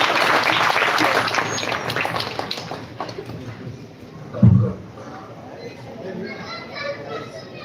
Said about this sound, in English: may we have a big round of applause